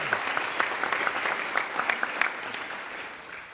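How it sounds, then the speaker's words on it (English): A round of applause from an audience at a customer service recognition event, steady indoor clapping with a few sharper individual claps standing out, fairly close and sustained throughout. "let's give everyone a big round of applause"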